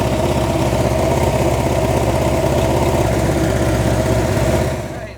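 A Nissan 240SX S14 engine idles close by at around 1,000 rpm with a low, even rumble that holds constant before tapering off at the end.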